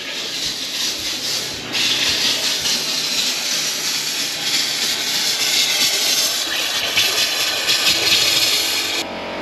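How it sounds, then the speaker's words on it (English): An air compressor runs at a remote off-grid Alaska cabin, giving a loud, steady hiss with a low drone underneath that fills the whole stretch and rises slightly in strength partway through, with no voices. "Get that air compressor."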